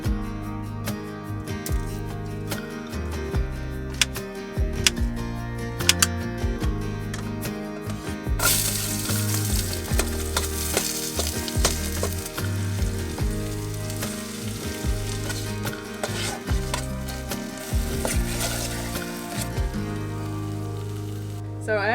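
Chilies, ginger, miso and noodles fry in a single pan over a flame inside a camper van at the beach, a steady dense sizzle that swells louder partway through, continuous and close, with occasional talk.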